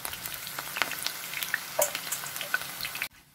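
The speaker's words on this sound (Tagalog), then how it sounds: "sunod naman natin iprito ang talong" Eggplant slices frying in hot oil, a close, soft crackling sizzle with scattered pops and spits that stops abruptly near the end.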